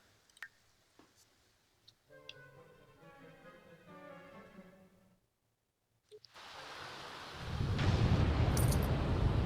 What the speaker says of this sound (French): De l'orage.